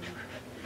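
Dog panting briefly and faintly, a soft breathy rasp close by; the dogs are a Samoyed and a Neapolitan Mastiff/Great Dane mix.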